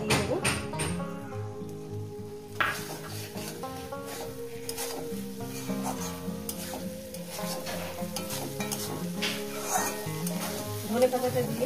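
An egg curry with raw tomato sizzles in a pan while fresh coriander leaves are stirred through, with steady frying crackle, repeated scraping and clattering of a spatula, and close, moderately loud sound throughout.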